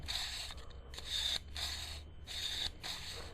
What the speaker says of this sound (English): just put it in there and keep it as straight up as possible, and then just rub it through it